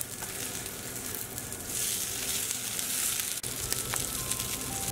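Zucchini fritters fry in a pan with a steady, close sizzle and crackle that grows a little louder partway through, continuous and alone with no voices.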